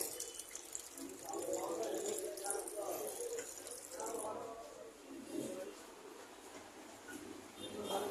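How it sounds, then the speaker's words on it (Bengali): Tap water runs into a washroom basin while hands are washed, a steady soft splashing in a restaurant, with talk and room chatter over it. "ওয়াশরুমে বেসিনে হাত ধুচ্ছি"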